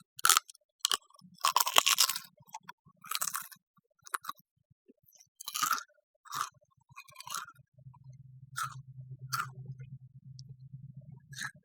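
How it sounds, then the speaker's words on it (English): Crispy plain potato chips are bitten and chewed close to the mic, sharp crunches arriving in irregular bursts with quiet gaps, then a softer low hum under the last crunches. "you can never go wrong with the crunch of a potato chip"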